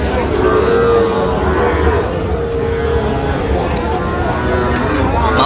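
Cattle and young bull calves moo loudly at a busy rural livestock market in Ambari, Dinajpur, with a continuous crowd hubbub and people talking close by.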